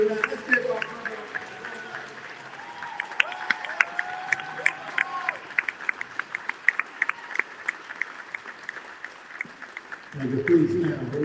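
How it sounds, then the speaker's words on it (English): Crowd at a Newark political gathering applauds and cheers for a mayor, with dense, fast clapping and scattered shouts running steadily for about ten seconds before a louder burst of crowd noise at the end. "let's give my brother mayor, Rajan Rocca, a huge round of applause."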